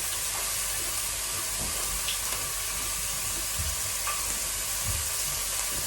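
Pork belly grilling over heat gives a steady, close hiss of sizzling fat with a few faint pops and small clinks, continuous and without talk.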